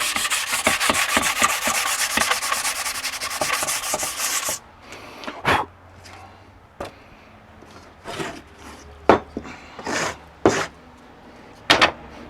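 Wood being sanded smooth by hand on a woodworking project: a steady, close rasping rub for several seconds, then scattered short scrapes and knocks.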